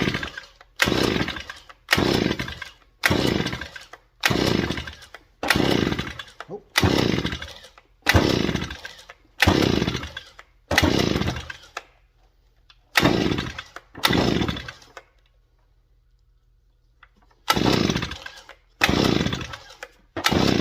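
A 43cc power auger engine is pulled over repeatedly in a steady rhythm of loud, rasping starter bursts, pausing briefly, then cranking again, close by and alone.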